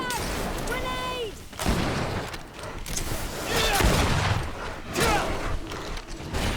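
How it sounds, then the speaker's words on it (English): Grenade blasts and combat booms from the Greedfall role-playing game thud loudly through shouted in-game voices, with several heavy impacts spread across the scene. "Watch out! Grenade!"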